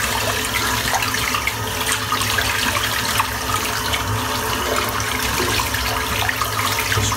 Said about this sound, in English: Just rinsing out the bowl now.